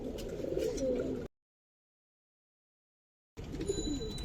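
Coloured pigeons coo softly at a pigeon farm, low murmuring calls heard nearby in two stretches separated by a silent gap.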